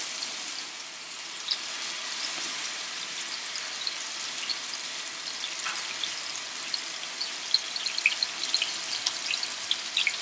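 Handi kebabs frying in a pan, a steady bright sizzle and crackle with scattered spitting pops, continuous and close with no talk.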